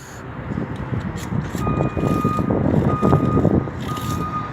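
A vehicle backing up in a parking lot sounds repeated steady electronic reversing beeps at a moderate distance, over a constant rumble of engine and traffic noise.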